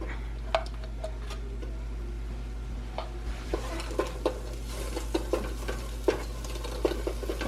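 Half an onion and garlic cook in a pan, giving a low steady sizzle under a constant hum, punctuated by light spoon taps and stirring clicks at irregular intervals.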